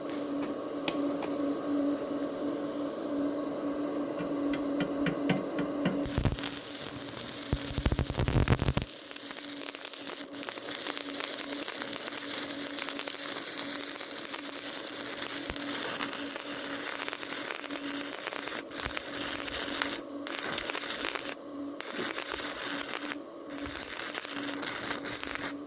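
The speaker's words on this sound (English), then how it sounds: "I'm going to see if I could just weld a little section and see how strong it is" A cheap $30 welder arcs while joining two steel pieces, giving a loud, continuous crackling hiss with a steady hum, briefly stopping and restarting in bursts.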